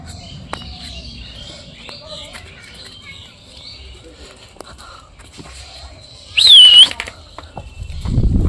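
Pigeons flapping their wings: a short, loud flurry of wingbeats bursts out close by near the end, after a quiet stretch with scattered small knocks and soft voices.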